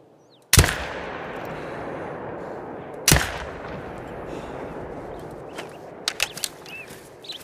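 Gunshots ring out while hunting black bear outdoors, with two sharp loud cracks a few seconds apart followed by fainter rustling and clicks.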